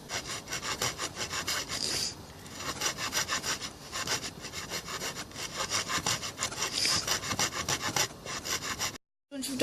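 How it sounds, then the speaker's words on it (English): Steady back-and-forth strokes of a hand saw rasping through wood, rhythmic and close, continuing for several seconds before a brief pause. "I'm going to keep sawing through the whole of this."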